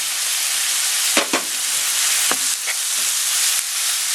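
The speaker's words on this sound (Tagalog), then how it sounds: "lutuin lang po natin itong ground pork before natin ilalagay yung potato saka yung carrot" Ground pork sizzles and fries in a pan, a close steady hiss broken by a few sharp clinks and scrapes as it is stirred.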